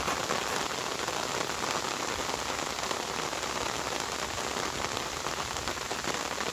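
Steady rain falls along a roadside route toward Sedalia, a continuous even patter on surfaces that stays unchanged throughout, with no voices.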